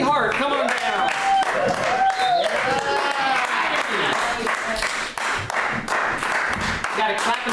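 Sustained audience clapping fills a live polka show in San Francisco as someone is called to the stage, loud and steady throughout, with cheering voices and shouts mixed in.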